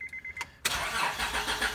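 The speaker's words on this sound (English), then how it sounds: "now with the jumper cables on, we're gonna try to start it." A car engine with jumper cables attached to its battery cranks with a few short starter bursts, then catches and roars into a loud, steady idle up close.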